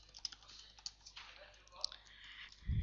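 Code typed on a computer keyboard, a quick run of light close key clicks, ending with a short bit of speech.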